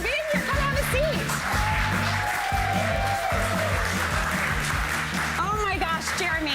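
A studio audience applauds as an astronaut arrives on a talk show set, a steady wash of clapping mixed with band music and voices of the host and guest talking throughout.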